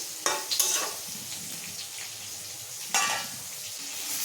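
Snake gourd cooking in a pan being stirred, with soft steady sizzling throughout and two brief scraping bursts from the spatula, close and fairly quiet.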